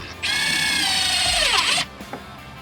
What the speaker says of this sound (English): we're going to use our tech screws, and these are a 1/4 inch socket. I've got them on my impact driver right here